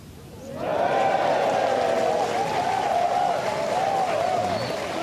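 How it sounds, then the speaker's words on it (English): A golf gallery at the 2025 Honda LPGA Thailand final round bursts into sustained applause and cheering after a birdie putt. The roar swells quickly and holds steady and loud, with a few high whistles riding over the crowd. "They're going to cheer all day long for Gino Thitikul."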